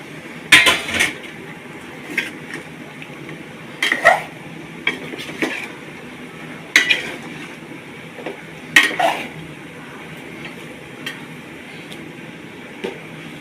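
Bamboo shoots and bean seeds being sautéed in a pan, with repeated close metal clinks and scrapes of a utensil against the pan at an irregular pace over a steady low background.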